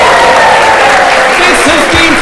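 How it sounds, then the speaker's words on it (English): Live audience clapping at a fan convention game show, a loud dense roar of applause filling the room while a voice speaks over it. "give an even bigger round of applause to Beansbirds"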